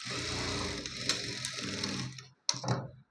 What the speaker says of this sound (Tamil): ஒரு கால் இன்ச்சில் இந்த மாதிரி நான் தையல் போட்டு